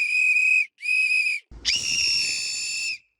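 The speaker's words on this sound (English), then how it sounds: "This looks like some sort of whistle from Arbuckle Elementary School." Two short, shrill whistle blasts followed by a longer sustained blast, loud and close with no talking.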